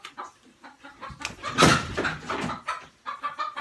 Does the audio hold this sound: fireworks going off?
no